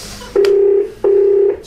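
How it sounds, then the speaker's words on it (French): A wall telephone gives two loud, steady tones of about half a second each, separated by a short pause, close and clear with no voices over them. "C'est mon téléphone mural."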